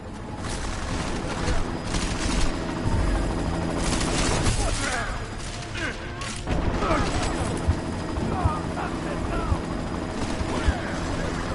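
Helicopter in the action video game Deus Ex: Mankind Divided, a steady rotor drone buried in dense gunfire bursts, booms and mechanical clatter throughout, with game dialogue over the top.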